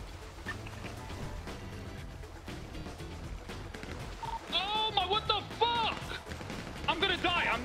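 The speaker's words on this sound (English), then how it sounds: "we're getting shot at" Gunfire in a GTA roleplay oil rig heist, bursts of shots popping through a busy game mix with talking over it and louder sharp clusters toward the end.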